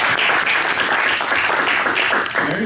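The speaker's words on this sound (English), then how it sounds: "round of applause for that" An audience at a Rotary Club meeting breaks into a short, lively round of applause, with dense clapping at a steady level and no speech over it.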